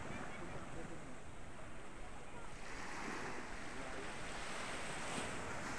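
Sea waves wash steadily onto a quiet, clear-water white sand beach resort near Maragondon, a continuous broadband surf hiss with some wind noise on the microphone and no gaps.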